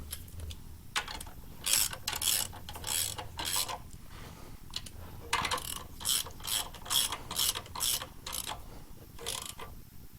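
A ratchet snugs up bolts while a B&M Quicksilver shifter is fitted to a 1958 Plymouth, with short runs of crisp, close clicking separated by pauses and quieter handling noises.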